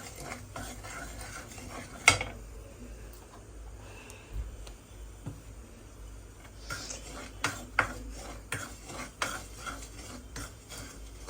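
Dry semolina (rava) being stirred in a pan for kesari: a spoon scrapes and taps against the metal in an uneven rhythm, close and fairly quiet, with one sharper clank.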